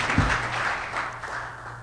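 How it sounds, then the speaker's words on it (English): Modest round of applause at a Rotary club meeting, a small group clapping at moderate level with a low hum underneath, tapering off over a couple of seconds. "give Owen a round of applause for his wisdom that he did"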